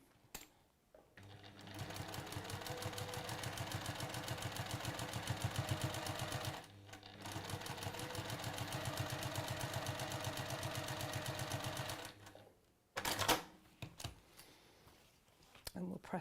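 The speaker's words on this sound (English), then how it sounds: "then you can just sew that strip down." A sewing machine stitches a fabric strip down in a steady, close, rapid mechanical whir, running in two long runs separated by a short pause, then stopping with a few clacks and handling noises.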